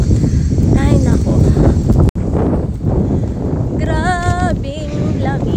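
Strong outdoor wind roars and buffets the microphone throughout, with a sudden brief dropout midway, while someone talks over it.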